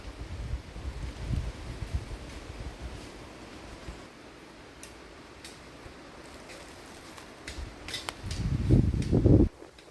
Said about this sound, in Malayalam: ജനുവരി കാറ്റുണ്ട് കേട്ടോ അതുകൊണ്ടാണ് കൂടുതൽ കാറ്റായിട്ട് നമുക്ക് തോന്നുന്നത്